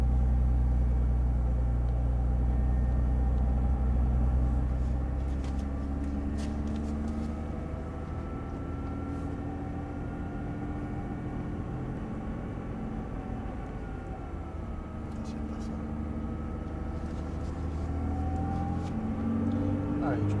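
A Nissan GT-R engine pulls away slowly in first gear on a racing circuit, its low rumble steady and close, swelling gently as the throttle is eased open, with a voice talking over it.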